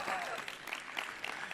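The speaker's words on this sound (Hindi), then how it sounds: "जोरदार ताली बजा दो।" Audience applause breaks out at a yoga session led by Swami Ramdev: dense, steady clapping from a crowd that fills the clip at moderate loudness, with scattered sharper claps standing out and no clear speech over it.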